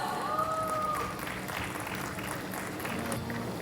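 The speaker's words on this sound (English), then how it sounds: "Let's say hooray and a nice round of applause." Wedding reception guests at Gokulam Grand in Kozhikode applaud steadily, a soft, continuous patter of many hands in a large hall, with faint voices and a brief tone rising over it.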